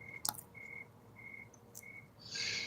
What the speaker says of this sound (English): You guys hear the crickets? I hear the crickets.